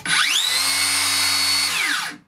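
A Makita 40V 125mm circular saw revs up sharply to a high-pitched whine, holds its fast spin for about a second and a half, then spins down, loud and close, with no talking.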